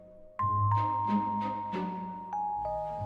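A bicycle bell in a Hindi children's story, rung in about seven quick, bright dings across three seconds, each ring fading into the next over a low background.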